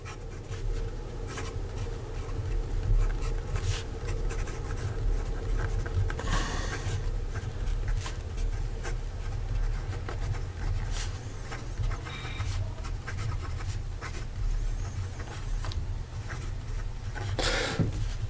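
Kanilea Nui Nalu fountain pen with a tuned nib writing a sample on paper, a soft continuous scratch over a constant low hum, with a few sharper brief scrapes and no talk.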